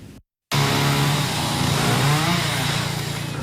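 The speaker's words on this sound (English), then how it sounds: "Right now, it's the sounds of chainsaws that fill the air." Chainsaws roar loudly and continuously as they cut fallen trees during cleanup after a tornado along a road in South Yulee, a dense, high-revving whine starting abruptly after a brief silence and holding steady.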